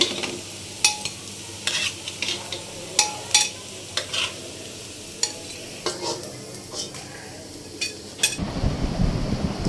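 Papaya, potato and red lentil fritters fry in hot oil with a steady sizzle, broken by sharp clinks of a utensil stirring and turning them in the pan. A louder rush of noise takes over near the end.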